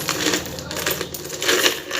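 Loose metal coins, including two-rupee pieces, spilling and clattering as they are poured out and turned over, a continuous jingling rattle that swells and fades with no talking.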